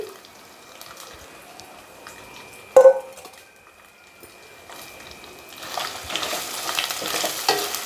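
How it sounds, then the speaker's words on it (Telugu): Boiled prawns drop into a pan with a sudden loud clatter, then a quiet pause before a rising, steady sizzle of oil and stirring builds toward the end, with no voices. "మనము ఈ విధంగా ఉడకబెట్టుకున్న రొయ్యల్ని దాంట్లో వేసేయాలి."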